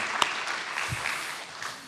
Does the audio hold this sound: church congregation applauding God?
yes